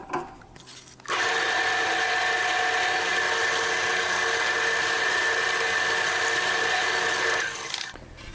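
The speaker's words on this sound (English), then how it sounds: "Again, I'm using the drill press for accuracy." A drill press boring small nail holes in a wooden workpiece with a size 48 bit: a steady motor whine starts abruptly, holds evenly for about six seconds, then winds down. It is close and loud, with no talking.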